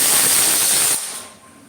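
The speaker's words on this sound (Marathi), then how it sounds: "कुकर सारखं सारखं शिट्टी करते" A pressure cooker whistle: a loud, sharp steam hiss blasts for about a second, then cuts off abruptly, leaving a faint fading hiss.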